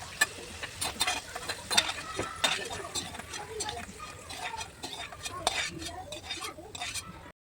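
A spoon scrapes and clinks against a pan while lifting out peanuts fried golden brown in hot oil, with repeated sharp metallic taps over a soft background hiss.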